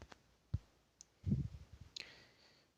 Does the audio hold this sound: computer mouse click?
yes